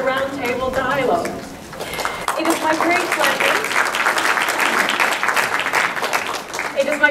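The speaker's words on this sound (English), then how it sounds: "a warm round of applause to our lovely organizers" Applause from a round-table audience for the event organizers at a ministerial gathering, a dense wash of many hands clapping that starts after a stretch of talk and music-like tones, then fills the rest steadily at moderate loudness.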